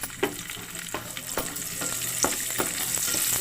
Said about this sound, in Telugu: గోల్డ్ కలర్లో వచ్చేదాకా వేగిస్తాం.